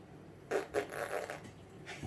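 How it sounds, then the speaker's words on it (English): A whoopee cushion sat on, giving a raspy, sputtering fart lasting over a second, fairly close and moderately loud, ending with a short second puff. "A big fart!"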